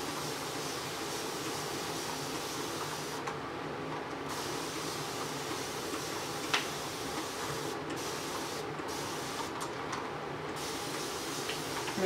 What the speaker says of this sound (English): I'm just going in with some water and literally just spraying